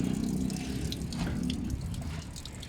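Filtered water runs steadily out of the outlet of a biosand filter that treats rusty water, a continuous close splashing trickle with no voices.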